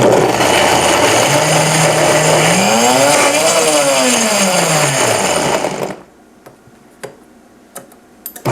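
A KitchenAid 3.5 horsepower blender runs loud and steady for about six seconds, its motor pitch dipping then rising and falling, before it stops and leaves a few faint clicks.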